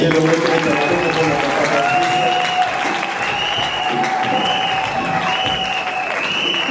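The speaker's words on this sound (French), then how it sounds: "J'aimerais qu'ensemble nous puissions applaudir pour Papa Patrice Ngoyouzo." A church congregation at a thanksgiving service applauds, giving sustained dense clapping throughout, with music or sung tones carrying over the crowd.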